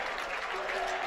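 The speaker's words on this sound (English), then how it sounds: "Fans applauding Mogaladou's effort" Basketball fans applauding at a men's college game, a brief burst of steady clapping from the stands with voices underneath.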